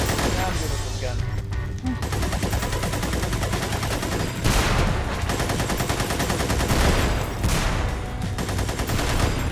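Heavy gunfire from a big gun in the video game Magicka, a dense, loud, continuous barrage of rapid shots with crashing impacts that runs almost unbroken, easing briefly only a couple of times.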